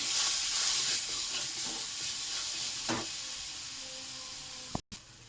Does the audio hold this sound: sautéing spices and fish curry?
yes